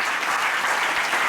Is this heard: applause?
yes